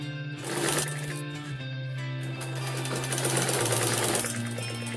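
A sewing machine stitches net ruffles onto fabric with a continuous, rapid mechanical chatter that runs close and steady the whole time, with slight changes in speed.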